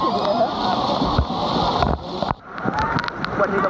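Water pours and splashes down from above at a water park ride, a loud continuous wash with a brief dip near the middle, while people talk over it.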